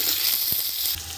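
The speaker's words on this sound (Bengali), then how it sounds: "তেল গরম হয়ে গেছে, আমি এখন কুমড়োটা ভেজে নেব।" Pumpkin frying in hot oil in a wok, a loud continuous hiss and sizzle held steady throughout the short moment, with a faint tap partway and the level dipping slightly near the end.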